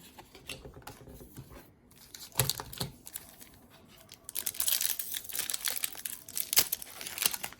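Kaldheim set booster pack wrappers torn open by hand, giving crinkly foil rips and rustles in short bursts near 2.5 seconds and then steadily over the last three seconds, close and fairly loud, with no talking.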